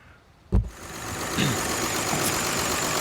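A 2014 VW Touareg V6 diesel with a fuel system pressure fault, with a sudden thump as it starts and then a steady near idle that holds to the end.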